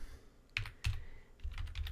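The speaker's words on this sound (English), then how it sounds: "what you would normally want to do is type in the stuff there" Light keystrokes on a computer keyboard while entering a Linux command, a few soft, quiet clicks in quick little bursts with no voices.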